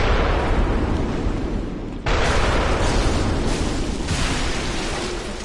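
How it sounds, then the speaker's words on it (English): Enemy cannon fire in the video game Bloodborne, a loud broadband blast with a sudden break and renewed booming roar that lingers and slowly fades over several seconds, no voices. "Oh, he's got a cannon."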